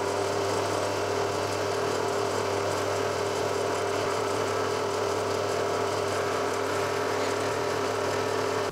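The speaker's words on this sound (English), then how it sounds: "I can go ahead and machine the pocket" A milling machine cuts a pocket into a part held in a vise, producing a continuous loud, even machining drone with a steady hum and no breaks.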